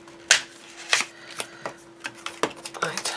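A blade or scalpel cuts across the top of an MDF baby bottle kit piece in a series of short, scratchy strokes, a dozen or so dry scrapes in quick irregular rhythm, close and fairly clear.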